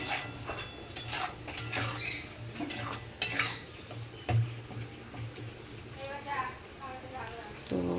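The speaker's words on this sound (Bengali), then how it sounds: "নুন দিয়ে ভালো করে নাড়াচাড়া করবো।" A spoon scrapes and clinks against a pan as shrimp masala is stirred with salt, giving irregular metallic taps and scrapes, with a voice talking intermittently beneath.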